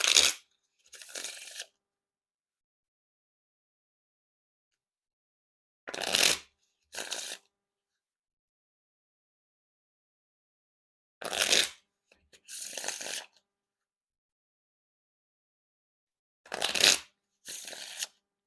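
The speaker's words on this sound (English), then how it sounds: "And now, time for the riffle shuffle or bridge shuffle." Warner Brothers 100th Anniversary playing cards are riffle shuffled four times, each a quick, close burst of fluttering card riffles followed by a short bridge snap, with silence between.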